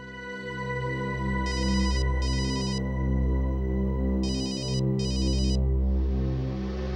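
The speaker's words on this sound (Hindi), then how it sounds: "किसका फोन है" A phone rings in two paired bursts of bright electronic trills over a steady musical drama score, loud and close, with no talking.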